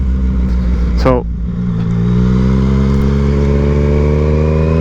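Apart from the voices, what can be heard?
Yamaha MT-09 motorcycle engine revving during wheelie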